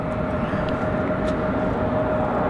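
Frontier Airbus A320 arriving from Philadelphia at Raleigh Durham airport, heard as a constant jet engine roar with a faint steady whine on top, unchanging in loudness over the short stretch.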